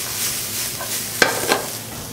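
Black quinoa and vegetables tossed in a hot sizzling pan, with a steady frying hiss and a couple of sharp clinks and scrapes as the grains are turned, close up.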